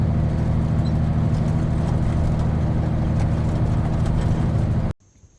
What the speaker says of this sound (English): Okay, that was the garbage truck,